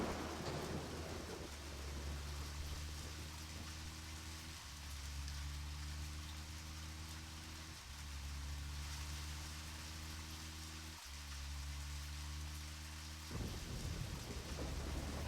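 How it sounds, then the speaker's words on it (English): Steady rain hiss with low rumbling thunder in a video game, soft and distant, accompanied by a low droning hum that stops and restarts several times. "I really just want the rain to stop"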